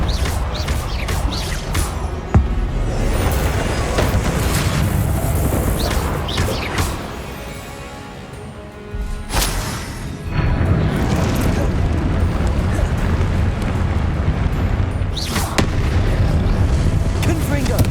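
Repeated Confringo explosive spell blasts in Hogwarts Legacy on PS5, loud booming bursts over a dense, continuous battle din, with a brief lull midway before the blasts resume.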